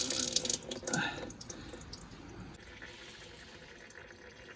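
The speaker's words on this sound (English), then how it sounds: "The oil is still quite warm, and it's draining pretty quickly" Warm DSG transmission oil from a 2011 Volkswagen Jetta drains quickly in a steady liquid pour, louder at first and then settling into a continuous trickle with a few drips.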